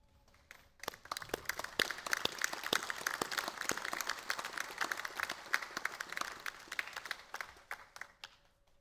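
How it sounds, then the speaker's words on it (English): Graduates at a university graduation ceremony in Townsville applaud their supporters, a sustained round of clapping from a large indoor crowd with sharp individual claps standing out, swelling in and tapering off over several seconds. "join me in offering a well-deserved round of applause to our supporters"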